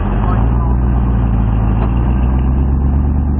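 An AC Cobra engine holds a steady, loud, droning rev on the TopGear test track, close and continuous throughout with no gaps.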